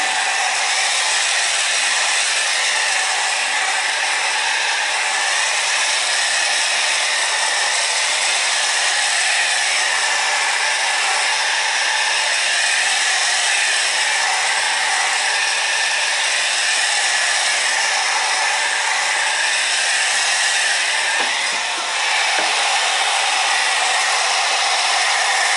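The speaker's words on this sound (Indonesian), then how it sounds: "Lalu kita keringkan dengan hair dryer." A hair dryer blows steadily and loudly for the whole stretch, drying a screen-printing screen for PCB work, its broad airy whoosh unbroken and with no voices over it.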